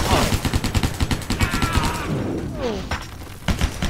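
Loud, rapid gunfire from the video game Stranglehold, a fast rhythmic stream of shots that pauses briefly and then resumes with a few more bursts, while game noise plays underneath.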